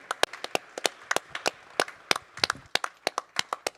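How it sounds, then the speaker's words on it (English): Crisp, distinct handclaps from a small group at the close of a panel talk on the EU's response to Brexit, sharp and close, coming in a quick, uneven rhythm with no talking. "Let's have a nice round of applause for all the speakers, questioners, for Yves and Mény for coming to us,"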